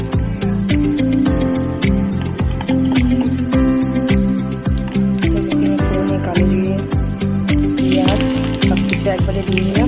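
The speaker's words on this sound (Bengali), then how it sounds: "তো আমার এখানে পেঁয়াজ লাল করে ভাজা হয়ে গেছে" Onions fry in hot oil in a pan while cooking spicy pabda fish curry, a loud continuous sizzle with crackles and occasional stirring.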